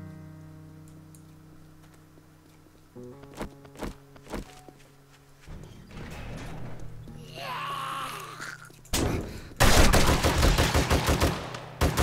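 Gunfire from the video game 7 Days to Die, with sharp shots and a rapid, loud burst near the end, mixed with game footsteps and thuds.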